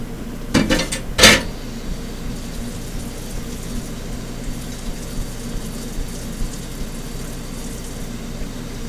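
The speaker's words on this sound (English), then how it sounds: "Now I'm going to wash my hands." Running tap water hisses steadily at a kitchen sink while hands are washed during cooking, opening with a couple of sharp clanks of metal cookware.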